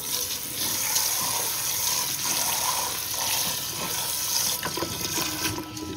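Tap water runs steadily into a sink or bowl while rice is washed, a constant close splashing hiss with small shifts in the flow and no talking.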